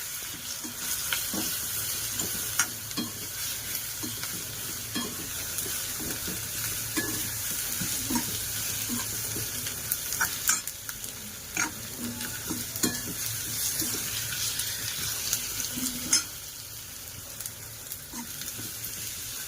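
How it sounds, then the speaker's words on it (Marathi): Coriander-cumin powder, asafoetida, Kashmiri masala and turmeric are sautéed in oil for a dried Bombay duck curry. A constant close sizzle carries repeated rhythmic scraping of a spoon stirring the pan. "थोडं धने जिरा पावडर, हिंग, लाल होण्यासाठी कश्मीरी मसाला, थोडी हळद, चांगलं परतवून घेऊया।"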